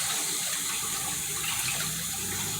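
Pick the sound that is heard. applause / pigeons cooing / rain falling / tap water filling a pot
tap water filling a pot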